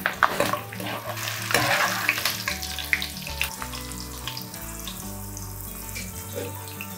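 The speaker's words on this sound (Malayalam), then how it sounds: "ഇച്ചിരി കറിവേപ്പിലൂടെ അങ്ങിട്ട് ഫ്രൈ ചെയ്ത് നമുക്ക് ആ ഗോപിയുടെ കൂടെ അങ്ങ് ചേർക്കാം" Curry leaves frying in a pan of hot oil for cauliflower (gobi) 65, a steady sizzle with stirring and clinks, with music over it throughout.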